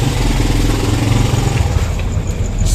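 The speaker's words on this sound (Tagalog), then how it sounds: "Ang ingay ng motor." Motorcycle engine droning steadily up close on a muddy road, a loud, continuous low rumble with no speech over it.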